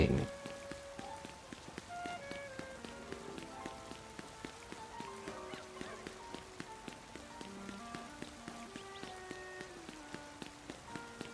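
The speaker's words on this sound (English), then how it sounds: "Raining." Rain pattering in Pokemon Legends Z-A, a fairly quiet, steady patter of drops running throughout under a melodic game music track with soft tones, with no speech.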